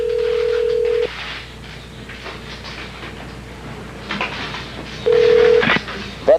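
A telephone line sounds a steady tone for about a second, then dialing and line noise follow before a second ringing tone bursts in near the end, moderately loud with no talk.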